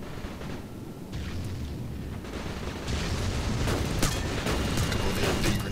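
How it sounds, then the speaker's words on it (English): EMP grenades go off in the space shooter Shattered Horizon, a couple of dull, rumbling booms that swell into a dense, noisy wash over the last few seconds at moderate loudness, with no voices. "A couple of EMP grenades went off up there."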